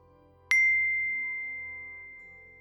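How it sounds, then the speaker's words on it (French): A phone notification chime: a single bright electronic ding that rings out and decays slowly over a couple of seconds, clear and alone against near silence. "c'est une notification qui le réveilla"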